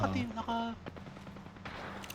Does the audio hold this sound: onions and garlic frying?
no